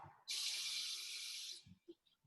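Cold tap water running into a container for glutinous rice ball dough, a steady hiss for just over a second, then the tap shuts off followed by a few faint knocks.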